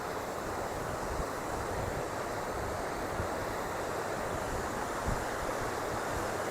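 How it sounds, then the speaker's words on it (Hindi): Kali Sindh river water flows steadily in a continuous broadband rush, like surf or wind over water, loud and unbroken for the whole stretch with no voices. "इस तरफ आप देखिए कि नदी की चादर जो है वो चल रही है।"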